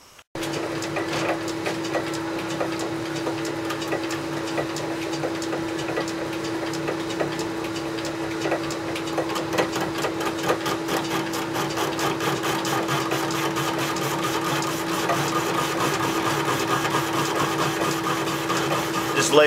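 Metal lathe running on a wooden floor in a shop, giving a steady mechanical hum with a constant tone and rhythmic rattling from the shaking machine, close and continuous, with a voice speaking over it.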